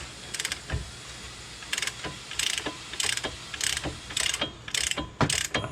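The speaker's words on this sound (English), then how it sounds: "We'll grab a torque wrench and torque her down." Steady ratcheting clicks come in repeated close bursts as a wrench draws down a front wheel bearing hub nut on a 2008 Buick Lucerne, with a few dull knocks between strokes and no voices.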